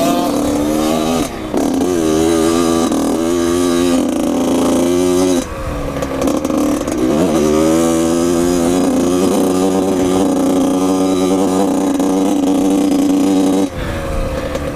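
A Yamaha YZ80 two-stroke dirt bike ridden hard on a motocross track, its engine buzzing loud and close, rising and falling through repeated revs and gear changes with brief throttle-offs.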